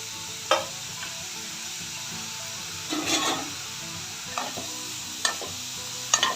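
Tomato and spices for mutton gravy sizzle steadily in a pan while a utensil scrapes and stirs them, with a few sharp knocks against the pan.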